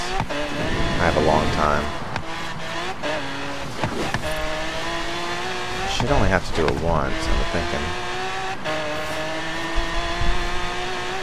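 A car driving in Forza Horizon, engine revving up and down through gear shifts with rising and falling tones, loud and close, while a person talks over it.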